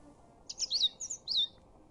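A bird character in the video game The Book of Unwritten Tales 2 chirps in a quick series of about four bright, high tweets within a second, clear over a quiet background.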